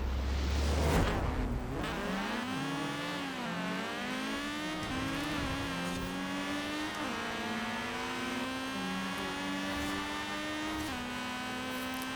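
Race car engine in a drag strip video game with a manual clutch, revving hard and climbing through quick gear shifts, the pitch rising and dropping repeatedly in a loud, continuous drive.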